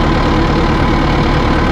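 A tractor engine idles close by, a steady, dense mechanical rumble that holds level throughout with no breaks or talking.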